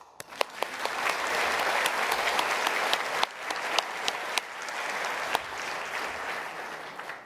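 A gala dinner crowd applauds steadily for several seconds, a thick continuous wash of clapping with a few sharper individual claps standing out near the front.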